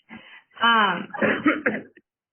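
A single sneeze in a virtual courtroom argument session, a short breathy intake followed by a voiced burst and quick tail, close to the microphone in otherwise quiet surroundings.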